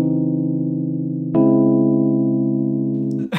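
Two sustained, synthesized-sounding major seventh chords held in turn, the second entering with a sharp attack near the middle, resolving at the end into a brief minor major seventh chord; loud, steady, no voices.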